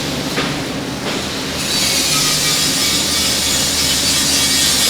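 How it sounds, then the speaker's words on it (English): A plate laser cuts metal in a suspension manufacturing shop, a dense continuous hiss and rumble that swells louder and brighter partway through and then holds steady. "Plate laser that cuts metal."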